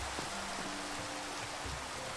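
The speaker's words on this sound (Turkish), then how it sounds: "Aha yağmur da başladı." Steady rain hiss in Minecraft, soft and even throughout, with no voices.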